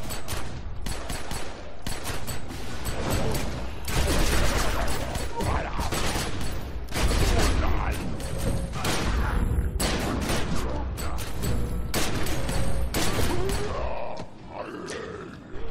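Rapid, dense pistol fire from two handguns in the video game The Secret World, crackling continuously and loudly with game effects and occasional grunts mixed in.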